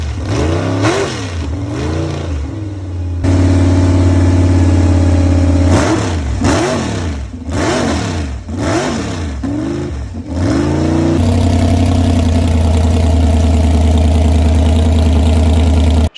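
A rebuilt big block Chevy V8 runs on an engine stand, loud and close, with repeated sharp revs rising and falling over a rough idle, then settling into a steady high-speed roar.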